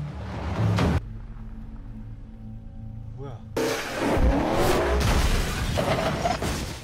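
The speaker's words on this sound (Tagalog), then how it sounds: "Binilisan ni Tom ang takbo ng sasakyan" A car speeds away during a film chase scene, with a revving engine and whooshing rush that cuts in abruptly after a quieter stretch of low hum, loud and close.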